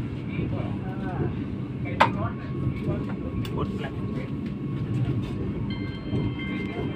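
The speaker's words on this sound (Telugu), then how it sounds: "నెల్లూరు రైల్వే స్టేషన్ కు స్వాగతం సుస్వాగతం." A Vande Bharat Express sits at Nellore railway station under a low, continuous rail rumble, with scattered clicks, faint tones and indistinct crowd murmur around it.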